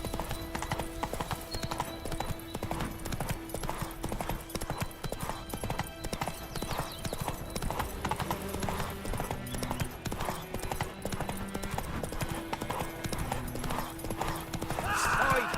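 Hooves of Roach, the horse in The Witcher 3, gallop in a steady, rapid clip-clop rhythm throughout, with game music and ambient sound underneath and a brief whinny-like swell near the end.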